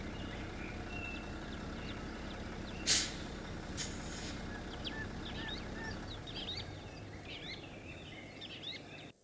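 Mack Superliner truck in American Truck Simulator pulling up behind a broken-down bus, steady engine rumble with a sharp hiss of air brakes releasing, followed by a shorter hiss, with faint bird chirps in the background.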